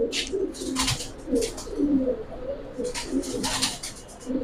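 A black-geared Giribaz pigeon pair, male and female, coo repeatedly in low, rolling phrases throughout, close by and fairly steady, with brief rustling bursts above.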